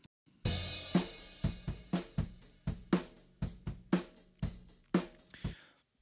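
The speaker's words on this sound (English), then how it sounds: "So let's listen to the overheads by themselves." Overhead microphone tracks of a drum kit play solo in a studio mix: a run of sharp, ringing cymbal and drum hits in a steady groove, heard alone with no talking.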